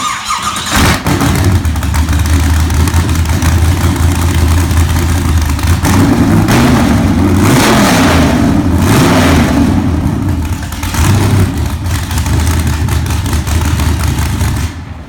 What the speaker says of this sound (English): Get a load of that idle.